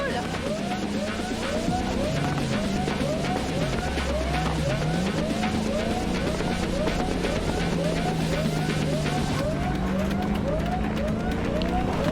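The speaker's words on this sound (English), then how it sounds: "Damn, this car handle's actually pretty nice." Engine roar and repeated tire squeals from a car driven in Cyberpunk 2077, loud and continuous with rising and falling engine pitch and skidding throughout.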